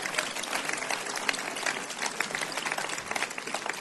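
A church congregation applauding during a sermon, moderately loud clapping that stays dense and even across a few seconds, with no clear speech over it.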